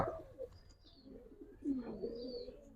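Giribaz pigeons coo in a loft with low, soft, rolling calls that come and go, close by, alongside faint chirps and no talking.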